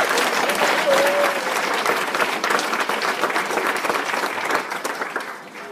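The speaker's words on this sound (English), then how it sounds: "let's give them a round of applause" Sustained applause from an embassy staff gathering in Nepal after the earthquake, honoring military medical teams: dense, steady clapping from many hands that holds for several seconds and tapers slightly at the end.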